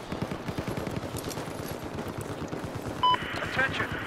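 Sustained rapid machine gun fire in the Battlefield 4 video game at the Pearl Market map, a dense stream of loud bursts with a brief radio-style voice cutting in near the end.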